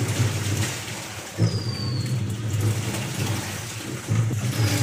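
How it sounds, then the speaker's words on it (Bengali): Light rain falls steadily outdoors on an overcast, misty morning near papaya trees, a soft continuous hiss with no voices. "আবার এখন দেখছি বৃষ্টি পড়ছে অল্প অল্প করে"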